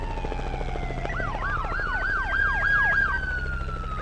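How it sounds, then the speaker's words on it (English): Ambulance and police car sirens wail together, one sweeping up and down in rapid yelps over a steady tone, with road noise beneath and no talking. "Then comes the ambulance and police car sirens."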